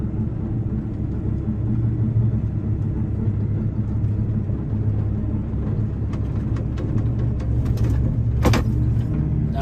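A John Deere 4890 windrower engine runs at low idle in tight quarters, a steady low diesel rumble throughout with a few faint clicks and a brief squeak near the end.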